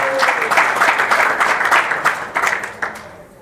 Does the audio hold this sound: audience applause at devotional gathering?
yes